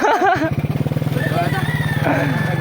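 A motorcycle engine runs steadily close by with a regular pulsing idle throb, while voices talk over it throughout.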